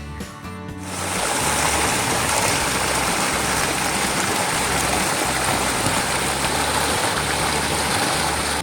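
A river runs full and fast, making a dense, steady rushing roar close by that swells in after a moment and holds constant, with no talking.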